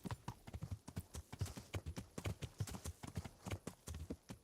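A horse gallops in the medieval video game Kingdom Come: Deliverance, its hooves pounding in a quick, steady rhythm of sharp thuds, close and continuous, with no voices.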